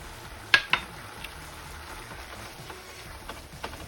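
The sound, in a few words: salsa added to simmering taco meat in pan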